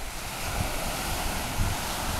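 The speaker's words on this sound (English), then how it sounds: "There's the ocean." Atlantic ocean surf at night rolls in as a constant broadband wash, with wind buffeting the microphone and no voices.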